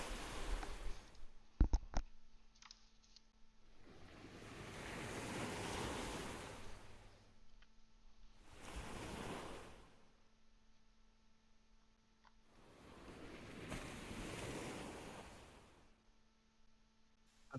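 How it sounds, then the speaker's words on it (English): Ocean surf rolls in and recedes in slow, broad swells, several waves washing ashore one after another with quiet gaps between them and no voices. "Some good ocean sounds."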